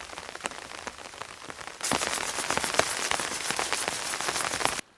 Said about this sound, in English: we got here just in the nick of time for serious rain.